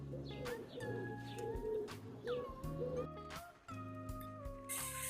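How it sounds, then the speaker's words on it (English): Birds sing and coo outdoors on a summer's day, clear bright whistled phrases repeating over a steady background murmur, with a dove-like coo beneath. "Birds singing in the background."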